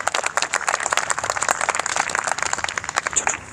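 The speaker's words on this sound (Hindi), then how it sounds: "एक बार जोरदार तालियां मैम के लिए।" Sustained applause from an audience at an Independence Day celebration event, dense, continuous clapping filling the whole stretch at a steady, lively level.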